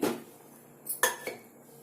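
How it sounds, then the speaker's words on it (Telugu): A pan set down on a lit stove, with a few sharp metallic clanks and clinks of cookware close by, scattered over a low background hum. "నేను స్టవ్ వెలిగించి ప్యాన్ పెట్టుకున్నాను"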